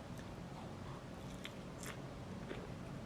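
Someone eats a diet meal up close, with quiet chewing and a few crisp bites standing out over low room noise.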